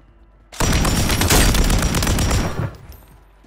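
Warzone 3 gunfire from the player's weapon, one sustained, loud, dense burst lasting about two seconds that starts abruptly and fades into a brief tail.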